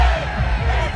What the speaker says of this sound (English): the chant of "Fix the game" started